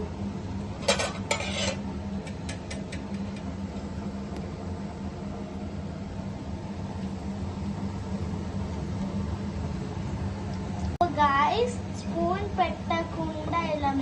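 Gulab jamun balls being stirred slowly in jaggery syrup in a pan, with a soft continuous swishing and a few light metallic clinks of a spoon against the pan, close by, and a voice talking near the end.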